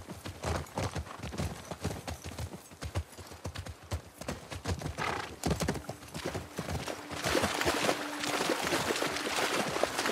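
Horses' hooves clip-clop at a steady walking pace in The Last of Us Part II, a dense run of close, fairly loud hoof strikes with a faint whinny-like tone partway through, no voices heard.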